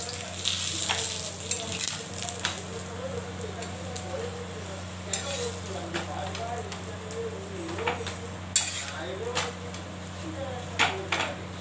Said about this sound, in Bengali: এবার তেল দিয়ে দিচ্ছি, তেল দিয়ে উল্টিয়ে দিচ্ছি